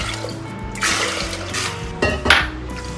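Water pours into a pressure cooker pot holding red lentils in a home kitchen, a close splashing gush that comes in several bursts, with a metallic clink of the pot near the end.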